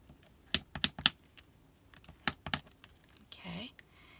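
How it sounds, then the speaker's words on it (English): Folded paper being burnished for a paper tassel craft, with a series of sharp close taps and rubbing strokes followed by a short scraping swipe. "burnish it real good."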